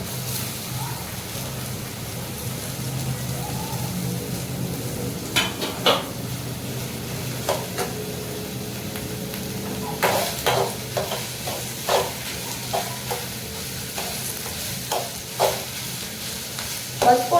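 Grated gourd fries in hot desi ghee for a halwa, giving a continuous sizzle. After the first few seconds, a spoon scrapes and knocks against the pan in repeated stirring strokes.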